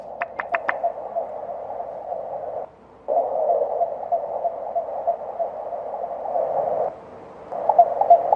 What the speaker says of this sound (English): I do want to play these for you. Those of you who didn't hear it yesterday, these crop circle tones,